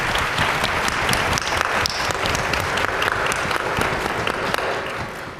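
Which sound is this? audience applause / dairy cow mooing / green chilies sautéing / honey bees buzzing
audience applause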